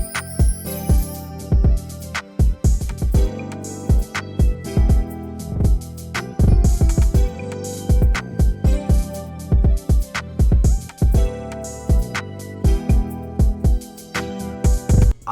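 R&B beat built in FL Studio layering punchy kick, clav, claps, hi-hats, shaker and a bright chime, looping in a steady groove with dense rhythmic hits throughout, loud and upfront with no talking.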